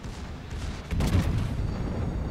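Two torpedo strikes on a ship in the naval combat game World of Warships, one heavy low boom landing about a second in and rumbling on under dull explosive noise, with no talking.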